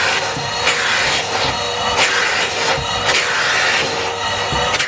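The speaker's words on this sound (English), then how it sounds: "just hoover out the holes because there's a load of dust inside them" A vacuum cleaner sucks dust out of holes drilled in wood, a steady close rushing roar that swells roughly once a second as the nozzle moves from hole to hole.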